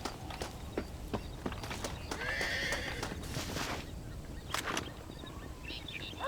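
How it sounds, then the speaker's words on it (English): Horses whinny and neigh in Red Dead Redemption, with a clear call mid-clip, over a busy background of hooves and scattered clicks. "I'm assuming that's those horses over there."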